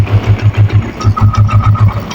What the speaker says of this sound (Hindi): तो ये आपको आवाज़ भी सुना लेता हूँ गाड़ी के इंजन का साउंड। देखें, थोड़ी रेस देना भाई।